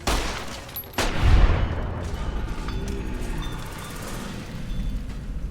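Grenade blasts and gunfire in the Fallout: New Vegas video game: a sharp loud boom near the start, then a rumbling tail and scattered distant shots trailing off.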